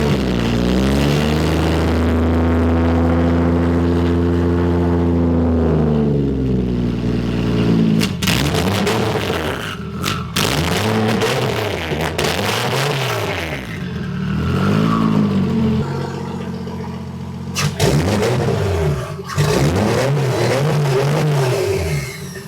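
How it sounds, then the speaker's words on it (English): A 1978 Datsun 280Z with a swapped 2JZ engine cranks, settles into a rough idle, then revs up and down repeatedly with rising and falling pitch, loud and close. "it had the one real quick start and die, and then the next one, it started right up"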